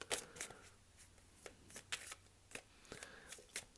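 Tarot cards are shuffled by hand in a quiet room, producing a string of soft, crisp riffling bursts at an irregular rhythm, faint and close, with no voices.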